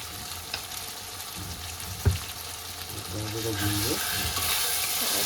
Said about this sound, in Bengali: তারপর এটাকে একটুখানি ভেজে নেবো টমেটোগুলো।